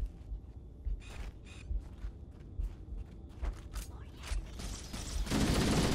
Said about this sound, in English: you wanna fire at me from long distance